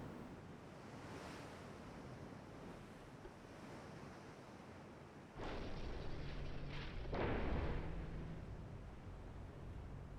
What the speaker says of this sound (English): Battleships have opened up.